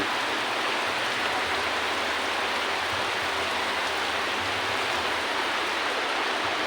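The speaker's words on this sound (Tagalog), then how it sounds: "napakalakas pa rin po ng ulan dito sa amin" Heavy rain pours steadily on a rainy morning, a dense, continuous hiss with no breaks and no voices, loud and close throughout.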